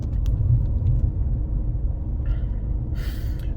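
A car diesel engine idles with slightly raised revs during a forced DPF regeneration, a low steady rumble heard from inside the cabin, with a few faint clicks and rustles over it.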